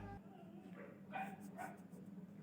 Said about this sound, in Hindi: कुत्ते आ गए यार